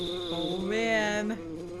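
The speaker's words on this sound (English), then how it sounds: "Do you hear buzzing that sounds like a bee flying around?" Buzzing of a bee flying around in the video game EarthBound, a steady synthesized drone with a rising, wavering pitch in the middle, heard alone and fairly close for about two seconds.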